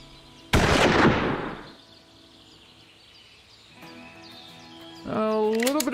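A single loud rifle shot from a 220-yard hunting video game shot cracks sharply and rings out for about a second. It fades into a quiet stretch, with game sounds rising again near the end.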